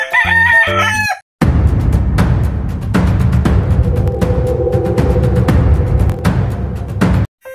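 A rooster crows loudly in a long, drawn-out call, close by, following a short burst of music at the start.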